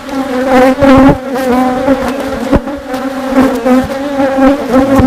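A swarm of honey bees drones loudly and continuously, with many wingbeat tones blending into a dense, close buzzing that pulses slightly in strength.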